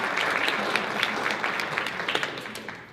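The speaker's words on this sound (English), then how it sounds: "So a round of applause for Paul" A graduation audience applauds the salutatorian, Paul: a crowd of hands clapping together in a steady, dense burst at moderate distance, gradually thinning toward the end, with no talking over it.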